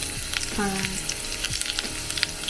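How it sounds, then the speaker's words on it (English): Pork belly sears in a pan for Japanese braised kakuni, a brief, loud crackling sizzle with scattered spits and a short squeak of metal partway through. "Okay, I seared the pork belly"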